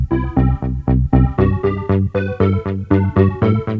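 QNTM:KNTRL KORDS synth playing a steady pattern of short, punchy chord stabs with a bass line moving in parallel under them, about a dozen evenly pulsed hits, clean and alone without speech.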